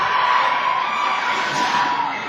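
A wrestling arena crowd cheers and shouts in a continuous, loud roar that holds steady, filling the hall without a break.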